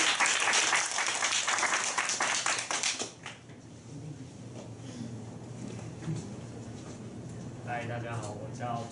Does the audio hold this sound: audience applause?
yes